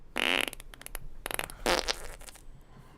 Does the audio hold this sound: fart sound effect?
yes